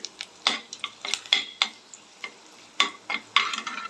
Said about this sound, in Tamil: கடுகு பொரிஞ்சு வந்தவுடனே கொஞ்சம் போல் வெந்தயம் சேர்த்துக்கலாம். வெந்தயம் சேர்த்துக்கோங்க.